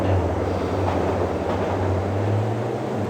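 A tram moving through a transport tunnel in The Journeyman Project game, a constant low mechanical hum and rumble that holds steady throughout, close and alone.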